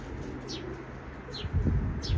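Pigeons coo softly nearby, a few low throaty calls repeating over faint background noise.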